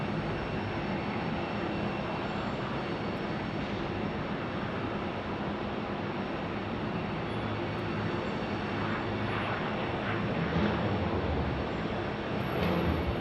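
A Boeing 757-300 airliner at Phoenix Sky Harbor International Airport, a continuous broad engine roar that holds steady and loud throughout, with no talk.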